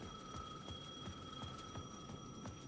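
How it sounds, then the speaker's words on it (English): A payphone at the edge of a plaza rings in the video game Alan Wake, with a steady tonal ring pulsing in regular, evenly spaced beats, quiet and alone. "payphone at the edge of the plaza was ringing again"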